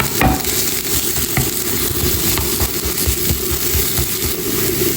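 Rice being stirred as it fries with garlic in butter, a steady close sizzle with rough scraping and stirring strokes running throughout, no voices.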